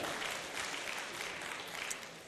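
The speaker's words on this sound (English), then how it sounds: "I think our chairman deserves a bigger round of applause." A conference audience at a pharmacists' continuing education event in Lagos claps together, a broad even wash of applause that stays steady throughout, moderately distant and without speech.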